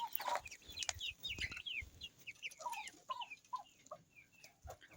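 Young Turkish Shamo chicks peep and cheep in quick, scattered calls, with a few low clucks mixed in, close by and fairly soft, with no voices over them.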